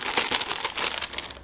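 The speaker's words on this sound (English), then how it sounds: "literally just a thin plastic bag" A thin plastic shipping bag crinkles and rustles close up in a quick, busy flurry of crackles lasting just over a second.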